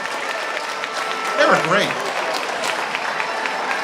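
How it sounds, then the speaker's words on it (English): Audience at a dance competition show applauds the dancers with steady clapping and cheering, rising briefly to a whoop in the middle while a voice speaks over it. "we're going to give one more round of applause for Donna and Owen"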